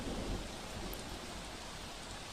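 Heavy monsoon rain pours down in Valsad, Gujarat, a dense, steady roar of falling water with no break, loud and close throughout.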